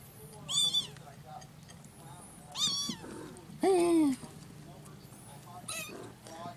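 Several kittens give high, wavering meows in short separate bursts, about four cries spread over a few seconds, close by and fairly clear against a quiet indoor background.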